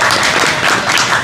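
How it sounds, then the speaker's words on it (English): A crowd claps at a press conference about a peaceful protest over the PJD Link highway, a dense, even round of applause filling the brief moment. "So please give them a round of applause."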